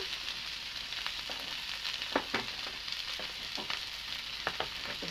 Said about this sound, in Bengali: মশলাটাকে আমি ভালোভাবে ভাজে নেব